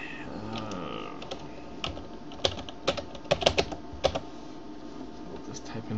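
Quick bursts of typing on a computer keyboard, a handful of close, crisp key clicks clustered in the middle over a faint room hum.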